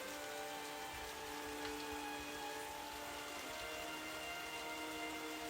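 Steady rain falls in a dense, even hiss on a surface, continuous and moderately close, with no voices and a faint low hum underneath.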